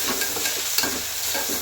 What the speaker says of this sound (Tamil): இஞ்சி பூண்டும் சேர்த்தாச்சு. அதை எல்லாத்தையும் போட்டு நல்லா கலந்து வச்சுக்கணும்.